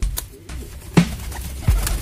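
Thirsty pigeons drinking water nearby make soft coos and wing flutters, with a few short bursts of sound against a quiet outdoor background.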